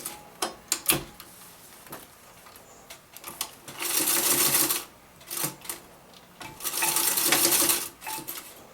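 Sewing machine stitching a zipper onto a Croc-style bag, with short bursts of rapid mechanical whirring and needle chatter separated by pauses, handling clicks and fabric shifting, close and moderately loud with no talk.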